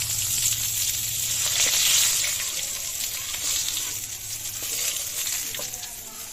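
Pieces of rohu fish frying in hot oil give a steady, bright sizzle that holds evenly throughout, with faint clinks of a utensil stirring or turning them near the end.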